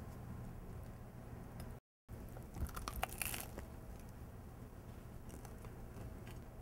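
Crunchy bites and chewing on a grilled sea scallop BLT sandwich, quiet close crunches clustered in the middle of a soft steady room background, no talking.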